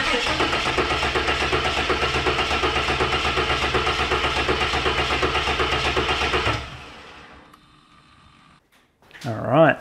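A turbocharged Barra engine runs with a steady pulsing mid-range drone for about six seconds, then cuts off to near quiet before a brief rising whine at the end.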